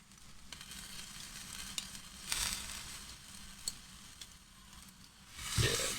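Pigeon breast sizzles skin side down on a kamado grill, a steady soft hiss with occasional pops and crackles, faint and close, ending with a brief louder scrape.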